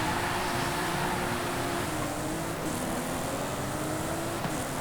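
Aston Martin Vantage engine in the Forza Horizon 5 racing game, a loud steady drone with a sustained tonal hum that holds for several seconds, no talk over it.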